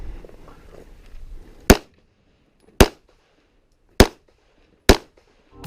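Four sharp pistol shots crack out at an IDPA shooting match at the Charlotte Rifle and Pistol Club, spaced about a second apart and loud and close, following a brief stretch of low rustling and background noise.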